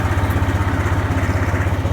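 Tractor engine idling with power takeoff engaged, running an H & S tedder, a close, steady, rapid low chugging pulse with no speech.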